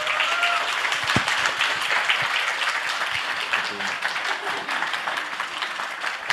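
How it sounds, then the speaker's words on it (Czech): Audience applause fills the hall after a talk, a steady dense wash of many hands clapping at even loudness throughout. "myslím, že můžeme zatleskat"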